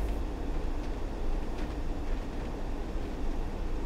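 Class 101 diesel multiple unit running in the Train Sim World 2 game on a diesel-only line, a steady mid-level rumble of rail travel with faint wheel clatter throughout.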